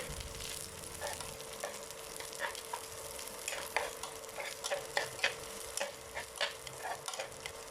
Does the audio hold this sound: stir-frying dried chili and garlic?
yes